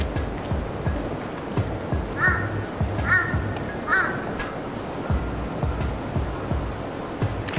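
Large Tokyo crows cawing in a short series of harsh calls over a constant roar of surf and wind.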